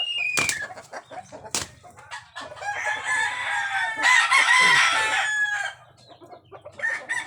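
A gamecock crows loudly and close during training with a dummy bird, with clucking and scattered wing flaps around the call.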